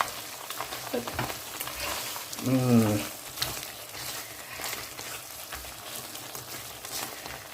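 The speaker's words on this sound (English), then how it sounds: "And now I'm going to just stir this." Beef rendang being stirred as it fries in a pan, a steady close sizzle with a brief louder scrape of the spoon midway and soft clatter throughout, with no talking.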